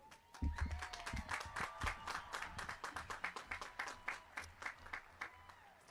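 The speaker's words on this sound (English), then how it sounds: "one more round of applause for Lexi." Steady applause from a large audience at a high school graduation ceremony, many hands clapping at once, sustained and fairly distant, with a low rumble underneath.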